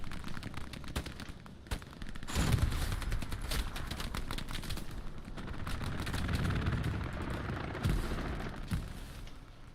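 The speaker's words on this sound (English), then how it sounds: "I'm calling another strafing run over those trenches. It's incoming now." Strafing-run gunfire rakes across trenches in a war video game: sustained distant rattling bursts and rumbling impacts, with louder cracks and booms swelling and fading over several seconds.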